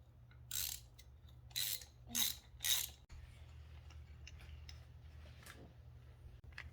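A ratchet clicks in four short, loud bursts while loosening a spark plug on a supercharged 2010 Audi B8 S4. Fainter clicks and tool handling follow in a quiet garage.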